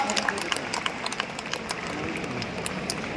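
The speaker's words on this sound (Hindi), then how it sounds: "आपके जोरदार तालियों के साथ दोस्तों" Applause from a large audience at an RCM anniversary event in a New Delhi stadium, a steady wash of many hands clapping at moderate distance, fairly soft overall with scattered sharper claps.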